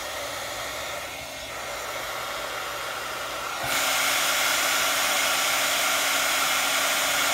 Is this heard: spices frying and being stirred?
no